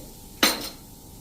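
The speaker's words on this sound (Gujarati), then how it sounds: "એમાં એક્ટિવેટ કરવા માટે થોડુંક આપણે 1 ચમચી જેવું પાણી નાખીએ અને એકદમ સરસ એની મિક્સ કરી લઈએ." A spoon clinks once against a small bowl while Eno fruit salt is mixed with a spoonful of water in a home kitchen, a single short, close scrape-and-clink in an otherwise quiet room.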